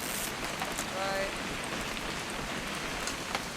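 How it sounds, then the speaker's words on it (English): Steady rain patters and hisses throughout a scene in the video game What Remains of Edith Finch, a dense, even wash of drops with faint voices under it. "It's gonna rain the whole weekend, isn't it?"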